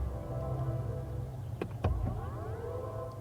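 A faint, sustained electronic startup chime composed by Hans Zimmer plays inside a BMW iX electric SUV, with low tonal layers, a couple of brief clicks and a soft rising sweep near the end.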